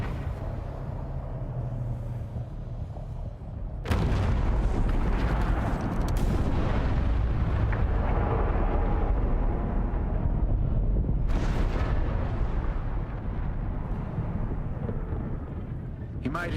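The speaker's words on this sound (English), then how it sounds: "Here you go, shooting down ships again." Ships shot down in Dune: Awakening, with a sudden loud blast of gunfire and explosions at about four seconds, a dense roaring barrage continuing throughout, and a second burst later on.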